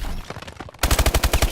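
Automatic gunfire in the video game Call of Duty: Advanced Warfare, a burst of steady, evenly spaced loud shots following a quieter stretch of in-game ambience.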